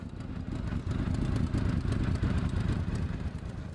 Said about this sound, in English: The V4 engine.